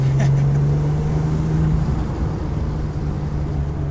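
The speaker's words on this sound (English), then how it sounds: "You can really hear the turbo noise in the car too." A loud engine drones steadily from inside a 2008 Porsche 911 GT2 as its turbo spools up, with a constant low hum and rushing noise from the road and wind.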